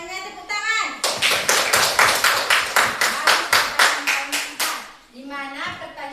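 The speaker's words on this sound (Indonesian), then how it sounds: "Tepuk tangan." A group claps hands in unison during a religious lesson, a burst of about a dozen loud rhythmic claps, with voices talking just before and after.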